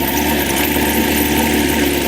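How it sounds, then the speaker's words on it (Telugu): A BMW S1000RR superbike's inline-four engine idles after starting, a loud, steady, close mechanical drone with an even, unbroken hum throughout. "ఇప్పుడు వెహికల్ అనేది స్టార్ట్ అయినాక ఏ వెహికల్ అయినా కూడా సౌండ్ ఇలానే వస్తుంది"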